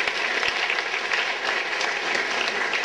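An audience at an energy conference gives a steady round of applause, dense clapping from a crowd filling the room without pause.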